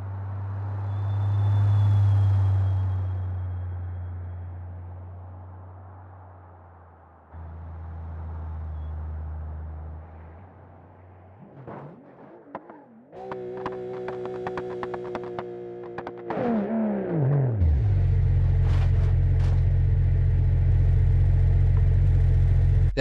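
A car in the driving game BeamNG Drive makes a low engine rumble that rises and fades, then a whining rev with gear changes and rattles before settling into a loud, steady drone.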